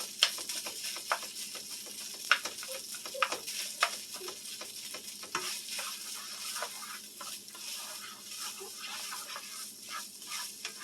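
Cold leftover rice fries in hot grease for pork fried rice, a soft, continuous sizzle broken by scattered pops and crackles and the occasional scrape of stirring, fairly close and without talk.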